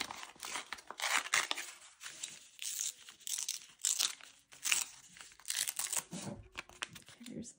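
Coffee-dyed paper being ripped by hand, with a long run of close, crisp tearing and crinkling bursts that come in uneven spurts with brief pauses between pulls.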